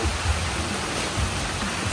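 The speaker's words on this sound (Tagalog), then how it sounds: "At ayan na po yung malakas na ulan." Heavy rain pours steadily in rural Mindoro, Philippines, beside a fish pond, a dense, loud, unbroken hiss of falling water with no voices.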